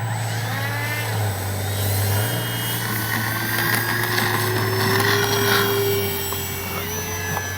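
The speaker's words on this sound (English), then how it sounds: "we're going to take off from down there. Take off flaps." A Kavan Bristell B-23 RC model airplane takes off on a Christmas Eve flight, a steady buzzing engine drone with a rising whine as it speeds up and pulls away, loud and continuous, no talk.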